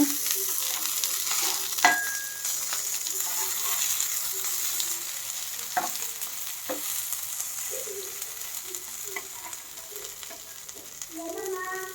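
Spine guard fish pieces shallow frying in a pan while being flipped, a soft steady sizzle with scattered faint clinks and scrapes of the turner against the pan.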